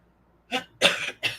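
Three close, harsh coughs come in quick succession after a moment of quiet, the second one longer and rougher.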